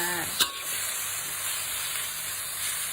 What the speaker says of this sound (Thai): ผัดมาม่าแบบพัววิไลจ้า